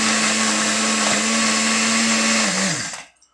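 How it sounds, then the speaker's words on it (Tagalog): A loud heavy-duty blender whirs steadily at high speed, crushing ice, then spins down and stops abruptly near the end. "At kailangan yung blender nyo dito pang heavy duty."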